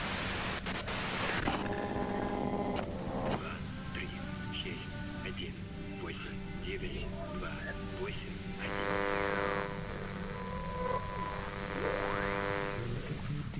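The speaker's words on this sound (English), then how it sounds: "you can do it through the white noise" Steady hiss of white-noise static from the Disco Elysium video game, constant and fairly quiet throughout, with tonal game sounds and a voice layered over it.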